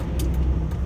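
A 1995 Mercedes-Benz E320 sedan drives along, a low steady engine and road rumble heard briefly from inside the cabin.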